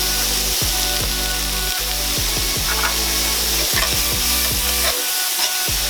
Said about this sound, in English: I'm gonna drop just a tiny bit of butter